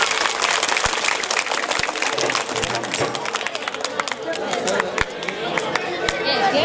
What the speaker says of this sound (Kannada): ಒಂದ್ಸಲ ಎಲ್ಲರೂ ಜೋರಾದ ಚಪ್ಪಾಳೆ ಹೊಡಿ ನೋಡೋಣ ಹೆಂಗೆ ಹೊಡಿತೀವಿ.